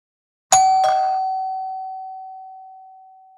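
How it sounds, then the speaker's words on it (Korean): A two-tone doorbell chime rings once in a quiet interior scene from a Korean audiobook: a sharp ding, a quick second strike, and then a clear tone that slowly fades. "밥을 짓다 말고 초인종 소리에 고개를 들었습니다"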